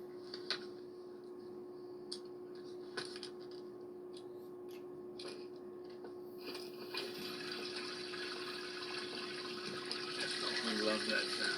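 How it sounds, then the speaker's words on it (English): A gas-powered water pump runs for gold sluicing outdoors, a steady low hum under a rushing wash of flowing water that grows louder toward the end, with a few faint knocks. "Get the pump flowing."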